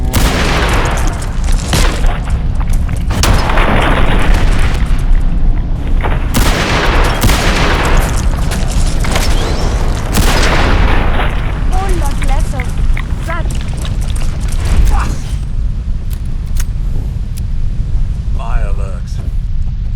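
Fireworks exploding in the Fallout video game, a dense barrage of loud booms and crackling bursts rolling continuously, close and overlapping, with voices talking over the din.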